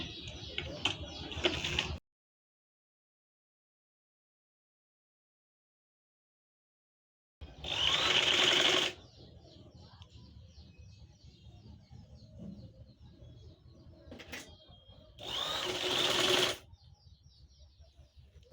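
A sewing machine gathers fabric for a baby frock in short bursts of rapid stitching, loud and close, separated by a long silent pause and quieter handling sounds.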